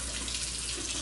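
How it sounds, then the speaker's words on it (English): Hot water poured into a glass French press, a steady, fairly loud rushing stream of liquid that continues unbroken for about a second, close by, with no voices. "Apparently it's a good idea to put hot water in the French"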